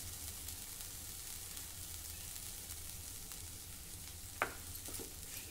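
Grated potato sizzles steadily in a pan for a fasting potato dish, a constant fine frying hiss with one sharp scrape of stirring near the end and a softer clink just after.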